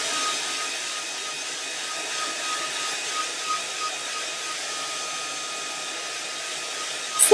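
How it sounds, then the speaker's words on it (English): A noisy hairdryer runs at full heat to dry acrylic paint, a steady airy whir held constant throughout, with a small knock at the very end. "I'm just going to use this horrible noisy hairdryer"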